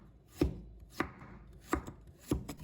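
A knife chops fresh ginger into slices on a cutting board, four crisp, evenly spaced thuds close up in an otherwise quiet room.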